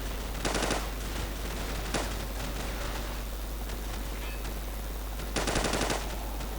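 Gunfire in Call of Duty 4: Modern Warfare, two sharp bursts of rapid automatic fire with a single shot between them, heard over a steady low game hum.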